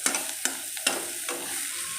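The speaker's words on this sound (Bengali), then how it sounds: "আমি এটাকে পেঁয়াজ লঙ্কাটাকে ভালো করে কিন্তু ভেজে নিচ্ছি আলু মাখাতে দেবো বলে" Onion and green chilli sizzle steadily in a frying pan, broken by three or four sharp scrapes and taps of a stirring spoon at short intervals. No one speaks.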